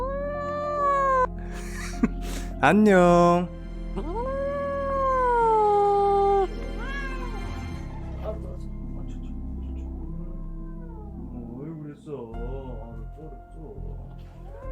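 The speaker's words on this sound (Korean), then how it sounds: "말하는 고양이 구찌입니다" A talking cat named Gucci lets out several drawn-out, howling meows with rising and falling pitch, loud and close, alongside a person speaking in Korean.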